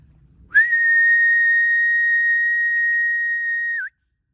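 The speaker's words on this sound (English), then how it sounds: "I'm going to whistle again." A single sustained high whistle, held steady for about three seconds and ending with a short downward bend, carries loud and clear across quiet woodland to summon Labrador dogs.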